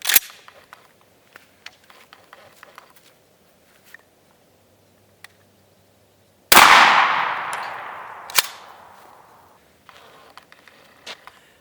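An old shotgun without choke tubes fires a single loud, sharp blast at a lock outdoors, followed by a long decaying echo, with faint clicks and handling noises before and after.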